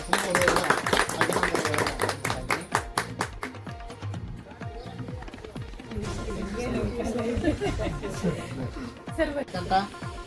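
Applause from the audience at a Kannada literary conference, the taluk unit's 8th Kannada Sahitya Sammelana in Raybag, honoring a couple: a dense burst of clapping that fades as a speaker's voice takes over over music.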